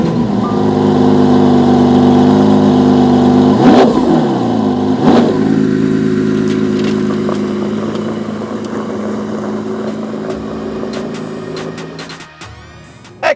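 A Lamborghini Aventador SVJ pulls away with loud, close engine revs, two sharp throttle blips over a steady growl that gradually fades as the car moves off.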